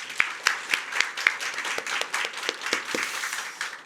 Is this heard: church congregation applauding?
yes